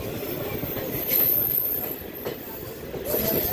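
A DEMU passenger train pulling out of Ulindakonda station, a constant low rumble with wheels squealing and faint clickety-clack under it, loudness rising and falling slightly, with no voices.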